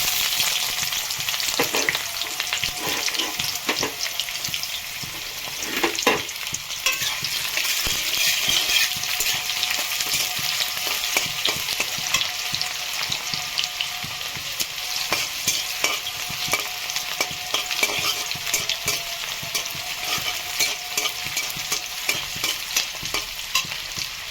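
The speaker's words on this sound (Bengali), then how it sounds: "আমি এখন পেঁয়াজ কুচিটা দেবো।" Chopped onion hits hot oil with bay leaf and whole garam masala, giving a loud, continuous sizzle for over twenty seconds while a spatula scrapes and stirs repeatedly. No one speaks.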